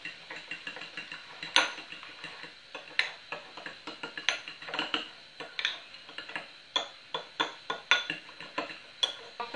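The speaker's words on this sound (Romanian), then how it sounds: "Amestecăm așa bine." A spoon stirs a beaten egg mixture in a bowl, producing a steady run of quick metallic clinks and scrapes against the dish, close and fairly bright, with no talking.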